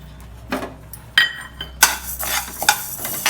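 Urad dal is stirred and dry roasted in a pan, giving a few close, scattered scrapes and rattles of lentils and spoon against metal, with short quiet gaps between the strokes.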